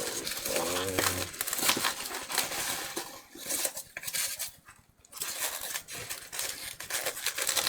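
A box packed with styrofoam gets opened, with scraping, squeaky rubbing and crinkly clatter in irregular bursts, close by and fairly loud, with a short quieter pause partway.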